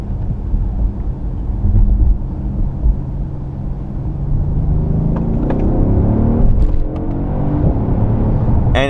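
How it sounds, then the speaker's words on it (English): A Mercedes-AMG S63 4Matic drives on a wet road with a steady, loud exhaust rumble that swells as it accelerates, with a few brief crackling pops on upshifts heard from inside the car. "You do get a nice sound, like a popping sound when the gears are changing up"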